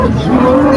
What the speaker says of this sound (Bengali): এই গাভীটা উনি নিয়ে আসছে বিক্রি করতে হাটে